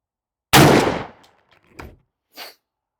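A 3.5-inch shotgun loaded with Winchester TSS number 8 turkey shot through a Longbeard number 4 Remington choke fires one loud, sharp blast that decays quickly, followed by faint clicks and a brief softer noise.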